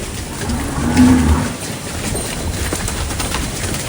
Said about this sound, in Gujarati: વૃદ્ધ ગાય.